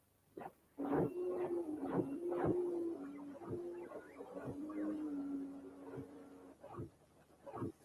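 Several mechanical whirring pulses rise and fall over a steady low tonal hum, with sharp clicks and thumps scattered throughout, moderately close.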